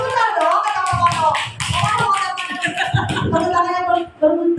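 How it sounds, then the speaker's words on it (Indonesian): Group applause at a school teachers' gathering, dense overlapping clapping from many hands close by, swelling and dipping briefly before continuing, with voices mixed in. "berikan tepuk tangan untuk Pak Mono dan Bu Herlina"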